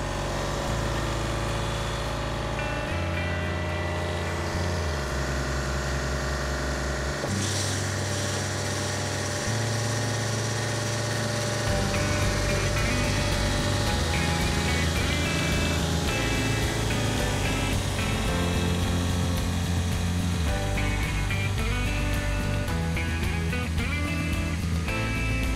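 A greenkeeper's ride-on reel mower drives with its cutting spindle lowered, a steady loud engine drone with low, shifting rumble that changes pitch as it speeds up, running continuously throughout.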